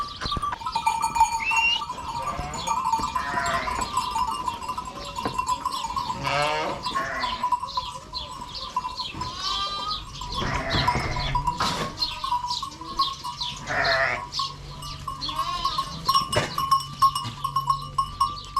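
Many sheep and goats bleating over one another in a busy, continuous chorus as the flock is let out, some calls close and loud, others farther off.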